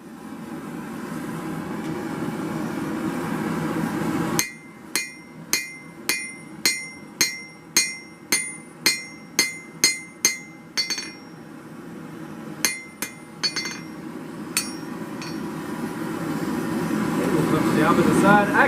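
Steel being forged with a hammer on an anvil, a run of about a dozen sharp, ringing strikes in steady rhythm, then a short pause and a few more blows, over a continuous low hum of background noise.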